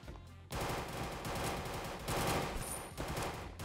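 Rapid gunfire in the MINIGAME GAME video game, a dense, loud burst of shots that starts abruptly and runs continuously, with no talk over it.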